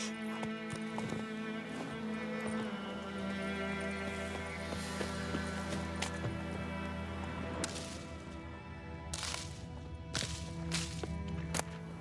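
Roach, Geralt's horse in The Witcher 3, trots with a steady clip-clop of hooves set against a busy game soundscape, constant and moderately loud.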